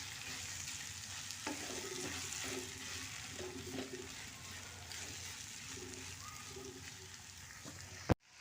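Potato bhaji frying in a pan, Malvani style, with a steady sizzle and the repeated scrape of a spoon stirring the vegetables, plus one sharp knock near the end.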